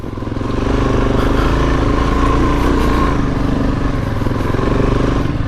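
A Suzuki DRZ400S on Bridgestone Trail Wings tires grinding along a muddy off-road trail, the single-cylinder engine droning loudly and steadily with rattling clatter from the bike, no talk.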